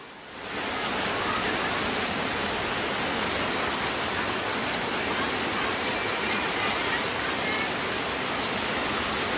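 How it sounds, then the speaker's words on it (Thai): Heavy rain pours down steadily during flooding in Loei, Thailand, a dense, loud hiss of falling water that continues without a break. "ไม่มีว่าจะหยุดฝนก็มาเรื่อยๆค่ะ"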